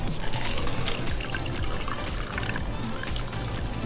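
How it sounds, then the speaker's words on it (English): Sake is poured through a double strainer in a steady, continuous splashing stream of liquid, close and fairly loud, with no clear speech over it. "Now you're pouring through there. Lift it higher."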